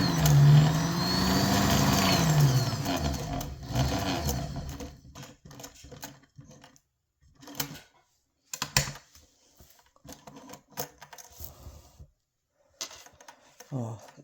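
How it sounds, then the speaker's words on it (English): Sewing machine stitching along the edge of a fabric scrunchie, running in a steady burst at first, then in short stop-start runs with pauses, heard close with some talking at the start. "And 2 minutes just to sew the edge."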